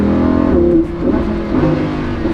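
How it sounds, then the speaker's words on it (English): A Lamborghini Huracan engine drones steadily, then dips and climbs in pitch through two quick rev changes as it double-downshifts, heard close from inside the car with no voices. "That was a double downshift."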